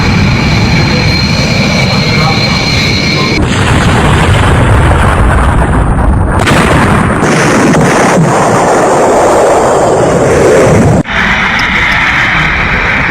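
A plane crashing and exploding seconds after takeoff produces a loud, continuous roaring rumble that stays heavy and saturated throughout. It drops off abruptly near the end before resuming.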